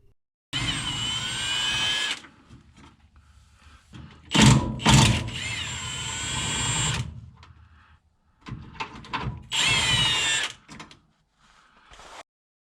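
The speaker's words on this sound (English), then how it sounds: "the first thing I need to do is remove the 3 nuts that hold the transmission isolator mount in place." A power drill spins off the nuts holding the transmission isolator mount on a Jeep JK, running in several close, loud bursts that stop and restart, with a short gap between them.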